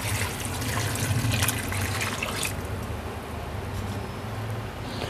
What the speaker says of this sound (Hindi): और साथ ही मैं इसमें 1 लीटर पानी डाल दूँगी